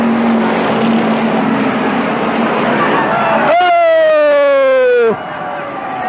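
Thunder cars roar around the Tri City Raceway Park track during an A main race, with a steady engine din and one loud revving car rising and passing. An announcer talks over the noise.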